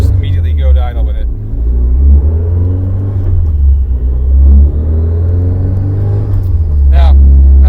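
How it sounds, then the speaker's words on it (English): A 2005 Subaru STi with a BorgWarner S300 turbo held at raised revs, a loud deep steady engine drone that swells and eases slightly, with someone talking over it at the start and end. "So yeah, I rev it."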